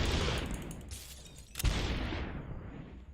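Gunfire in the video game Superhot bursts out as a loud shot, dies away, then a second blast follows with a long fading tail, with no talk over it.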